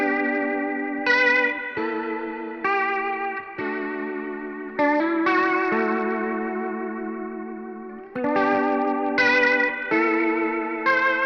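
Guitar played through a flanger pedal preset set to imitate a Leslie rotating speaker, a steady stream of sustained strummed chords with a swirling, modulated shimmer, loud and close, no talking.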